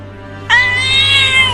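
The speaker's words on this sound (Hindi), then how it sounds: "अरे ये बिल्ली तो पिंजरे में से निकलने की कोशिश कर रही है।" A cartoon cat gives a single loud, drawn-out meow that starts after a brief quiet moment, over a low steady hum, with no talking.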